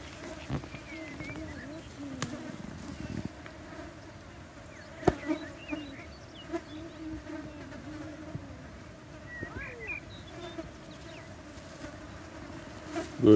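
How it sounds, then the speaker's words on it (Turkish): Flies buzz around close by over a clover field, a steady insect drone with occasional louder passes, over outdoor background noise and some faint voices. "Çok fazla sinek var arkadaşlar."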